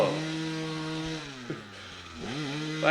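A smoking dirt bike engine revs with a thin, buzzy, chainsaw-like whine, held steady and then dipping and rising again, close and loud with no talk.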